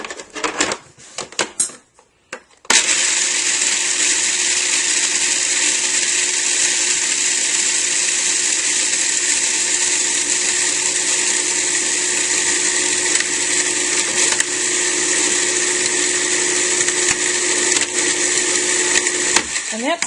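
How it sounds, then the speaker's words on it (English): A food processor grinds dry bread crisps into breadcrumbs, running as a steady loud whirring buzz for most of the time after a few short starting pulses. "I'm going to use the food processor to break these now dry bread crisps into"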